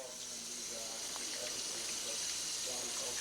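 Steady, moderately loud tap water pours into a kitchen sink as a catfish fillet is rinsed under the stream, with faint splashes over a continuous rushing flow.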